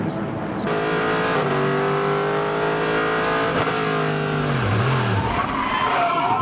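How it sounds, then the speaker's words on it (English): Audi race car losing control and spinning backwards into a tyre barrier, engine whine and tyre squeal sweeping loudly, then a sharp drop as it stops, while a commentator talks over it. "lost it completely, and he's backed it into the tyres"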